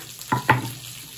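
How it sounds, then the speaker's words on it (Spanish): Spices and garlic fry in a pan for a recaudo sauce, two brief sizzling stirs over a soft background hiss. "para freír las especias y hacer el recaudo"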